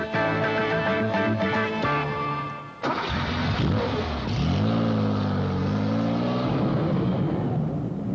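A Porsche engine fired up on the factory floor: a whirring starter and mechanical clatter, a sharp catch, then the engine settling into a steady idle with slight rev swells, close and prominent.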